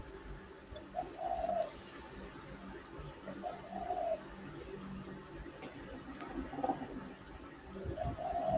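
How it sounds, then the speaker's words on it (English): Pigeons cooing repeatedly, soft low coos that come in spaced bursts over a faint background murmur, fairly quiet and close by. "Those bloody pigeons are back again."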